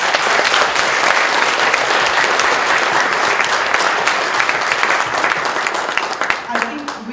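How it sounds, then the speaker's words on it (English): Sustained audience applause at a talk with an airline CEO, a dense, steady roar of many hands clapping that stays loud throughout before thinning slightly near the end. "Big round of applause."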